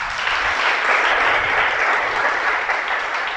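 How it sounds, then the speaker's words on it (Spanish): A congregation breaks into sustained applause at a church sermon, dense and steady throughout, with no talking over it. "Un aplauso al Creador."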